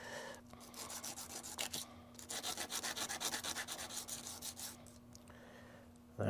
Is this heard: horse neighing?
no